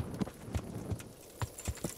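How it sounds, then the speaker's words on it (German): Horse hooves clip-clop in the medieval game Kingdom Come: Deliverance, about seven distinct hoofbeats in an uneven gait at moderate distance, with no talk over them. "Da kommt ein Pferd."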